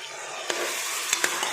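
Eggplant and tomato fry for vangibath with a steady, close hiss and a few sharp clicks from a stirring spoon against the pan.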